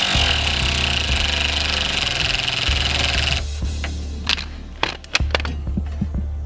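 A power tool, likely an impact driver, runs steadily while driving a 10mm bolt during an oil cooler install on a BMW E30 with an M20 engine, then cuts off, followed by a few sharp clanks and handling knocks.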